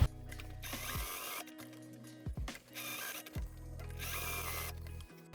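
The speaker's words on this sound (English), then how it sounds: "So let's bar tack these in place" Domestic sewing machine bar tacking a winter coat lining to the seam allowance, running in three short, loud mechanical bursts of rapid needle stitching separated by brief pauses, with no talk.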